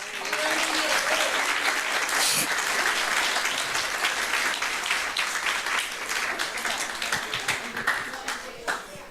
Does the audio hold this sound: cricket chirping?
no